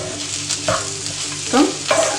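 Ground coriander and chilli powder are stirred and toasted in a pan for restaurant-style butter chicken. A soft steady sizzle sits under a few brief scraping stirs over a couple of seconds, with no voices.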